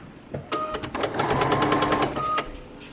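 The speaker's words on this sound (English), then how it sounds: "little paws pawing around on the ground" Quick light clicks of a dog's paws patter across a hard floor for about two seconds, close by and fairly clear.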